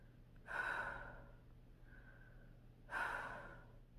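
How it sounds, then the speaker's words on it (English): Two hard, forceful breaths pushed through a disposable face mask, each a sharp rush of air lasting about half a second, separated by a quieter stretch with a faint steady hum underneath. "You can try breathing hard to see if any comes out."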